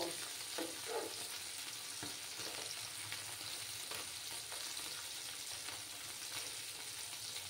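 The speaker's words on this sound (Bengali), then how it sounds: "আরও কিছুক্ষণ আমাকে মাছগুলো ফ্রাই করে নিতে হবে, তারপর আমি মাছগুলো তুলব।" Tangra fish fry in hot oil with a steady, bright sizzle and crackle. Occasional soft stirring clicks sound close by, and no voices are heard.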